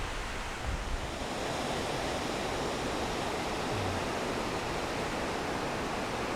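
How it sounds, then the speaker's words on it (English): A creek thunders far below a steep vertical drop, a continuous broadband rush of water that stays steady and even, with faint low wind buffeting. "There's a straight vertical drop down to that thundering creek."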